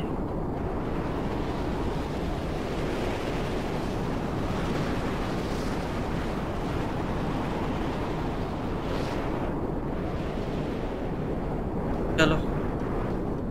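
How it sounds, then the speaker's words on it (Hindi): A storm approaches in the Mad Max video game, heard as continuous roaring wind and rumbling noise, loud and unbroken throughout, with a brief sharp tick near the end. "तूफान आ रहा है भाई।"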